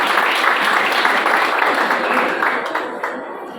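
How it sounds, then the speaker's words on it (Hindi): A crowd at a school cultural event gives loud, dense applause to welcome a guest, sustained and close before gradually thinning toward the end. "जोरदार तालियों से आपका स्वागत है।"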